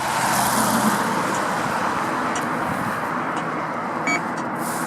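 Light road traffic near the Tallinn city limit by Lake Ülemiste hums as a steady distant wash of passing cars, with a faint brief tone near the end.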